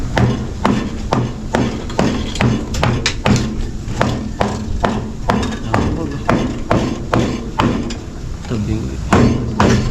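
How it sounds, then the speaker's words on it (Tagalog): Hammer blows on wooden formwork for a concrete beam on a building site, rapid and irregular sharp knocks repeating throughout, close and loud, with people talking in the background. "Martilyo."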